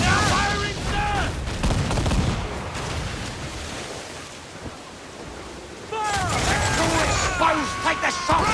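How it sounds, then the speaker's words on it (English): Ship cannons fire in a naval battle in Assassin's Creed IV: Black Flag, loud booming blasts mixed with shouted crew voices, a dense barrage at the start and again near the end. "Ready to fire now! Firing, sir!"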